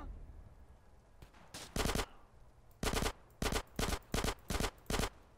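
Bursts of gunfire in GTA: San Andreas crack out in rapid, loud volleys, a short early burst followed by a string of evenly spaced automatic rounds with brief gaps between them.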